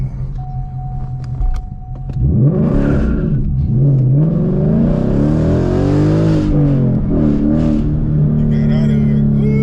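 A Ford Mustang's engine revs hard under full-throttle acceleration from inside the car, a loud rising roar that climbs and wavers after a quieter idle start, with talk mixed in.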